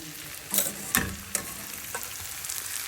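Atukula upma (soaked poha with tomato) being stirred in a frying pan, a few scraping stirs of a spoon over a steady soft sizzle, close and without talk.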